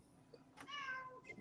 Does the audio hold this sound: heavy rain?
no